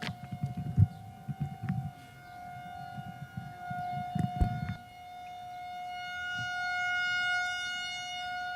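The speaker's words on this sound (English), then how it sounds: "And now with this big siren announcing it, let's begin our main event" A civil defense siren at a spring commencement ceremony holds a long, steady wail in the distance, with a few low rumbling thumps early on before it drones alone.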